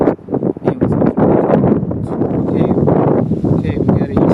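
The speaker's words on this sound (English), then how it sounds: "it's suddenly windy" Strong gusty wind at a trackside railfanning spot, roaring and buffeting the microphone loudly and continuously, with no pause throughout.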